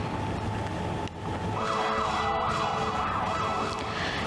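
An ambulance siren wails in a steady rising-and-falling pattern, loud and close, over continuous traffic and street noise during a student protest blocking the ambulance's path in Sumenep, Madura, East Java.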